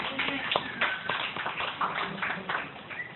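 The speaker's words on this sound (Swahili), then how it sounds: "Ndiye Bwana makofi." A church congregation at a Swahili motivational seminar breaks into brief applause for the Lord, a short burst of scattered hand claps mixed with voices.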